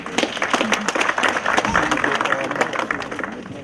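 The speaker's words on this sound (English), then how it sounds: "Give yourself a round of applause." Audience applause at the Nigerian Community Excellence Awards 2018 ceremony: steady, dense hand clapping fills the hall from start to finish, with voices mixed into the crowd noise.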